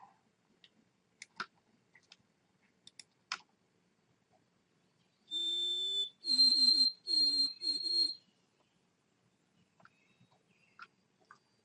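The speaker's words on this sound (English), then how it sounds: "this is the sound of the white-throated sparrow" A white-throated sparrow sings a clear, high whistled song: a long pure note followed by three repeated wavering phrases, alone against quiet background with a few faint clicks.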